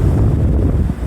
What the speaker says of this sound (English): Just seeing the waves come in.